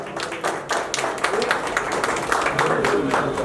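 Applause from an audience at a community award ceremony, dense overlapping clapping that stays fairly loud and steady throughout.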